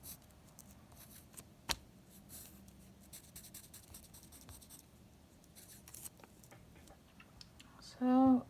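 Quick pen-on-paper scratching and tapping as a molecular structure is sketched by hand, faint and close, with a brief louder tonal sound near the end.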